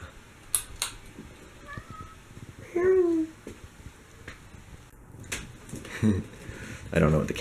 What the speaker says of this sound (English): Yeah, the cat's meowing.